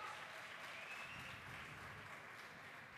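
Applause for a Counter-Strike 1.6 player at a grand final, a faint, steady wash of clapping heard from a distance with no talk over it.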